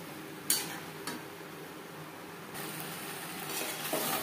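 Potatoes and pointed gourd fry with spices in a pan over high-to-medium flame, giving a steady, quiet sizzle broken by a few sharp clicks of stirring.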